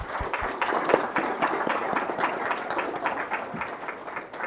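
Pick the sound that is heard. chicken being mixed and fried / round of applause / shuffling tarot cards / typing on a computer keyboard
round of applause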